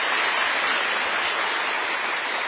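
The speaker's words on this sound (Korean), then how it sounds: "네, 박수 부탁드리겠습니다." A lecture audience applauds after a presidential talk to public servants, a thick, even wash of many hands clapping that holds steady throughout.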